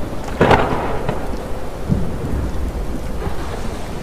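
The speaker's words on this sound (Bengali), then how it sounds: "তারপরে উঠল তুমুল ঝড়, আর সেই সাথে বজ্র বিদ্যুৎ সহ বৃষ্টি।" A night-time thunderstorm sound effect over a cremation ground: a loud, close crack of thunder near the start and a softer rumble later, all over a steady hiss of heavy rain.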